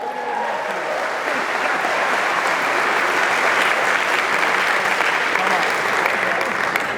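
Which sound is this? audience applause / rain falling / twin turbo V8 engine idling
audience applause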